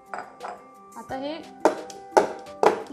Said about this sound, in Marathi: 2-3 वेळा असं टॅप करून घ्यायचं आहे म्हणजे एअर बबल्स जे असतील ते सगळे निघून जातील